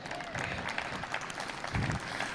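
An audience at a book event claps in a modest, even burst of applause heard at a moderate distance, with a few louder claps near the end.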